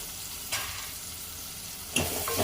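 Chopped onions hit hot oil in a pan for an ivy gourd fry, a steady close sizzle with two sharp surges as ingredients drop in and get stirred, no voices.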